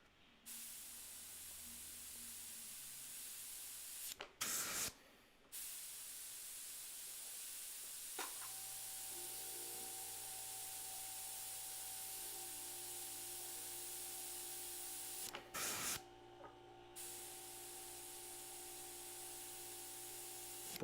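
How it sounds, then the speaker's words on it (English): An airbrush sprays with a faint, steady hiss that runs throughout, broken by a few brief louder bursts and clicks. "this airbrush is just not liking me today"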